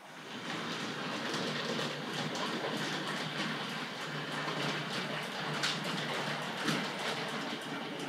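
A small Tri-ang Hornby R.754 M7 tank locomotive model train with Southern Railway coaches rolling along its track into a loop, a continuous rattling whir with faint clicks, steady and close.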